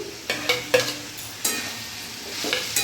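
Boiled figs and potatoes being stirred in a pan over medium gas for a vegetarian fig curry, with a steady sizzle and several scraping spatula strokes, close and fairly loud, and no talk.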